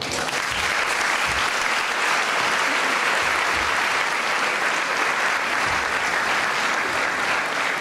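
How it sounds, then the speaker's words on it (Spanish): An audience claps continuously and loudly at an oratory contest marking 250 years since the birth of José Simeón Cañas, a dense, sustained wash of applause without speech. "¿No se escucha ese aplauso?"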